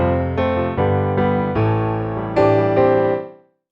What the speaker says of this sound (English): So now the piano is dry and sounds like this.